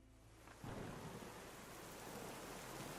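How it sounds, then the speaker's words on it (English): A thunderstorm with heavy rain and strong wind, a sudden loud rumble of thunder breaking in after a quieter start, then a dense, steady roar of pouring rain. "Heavy rain, strong wind, constant thunder."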